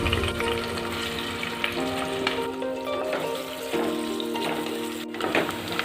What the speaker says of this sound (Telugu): కొన్ని ఉల్లిపాయలు వేసుకొని బ్రౌన్ కలర్ వచ్చే వరకు వేపుకోవాలి.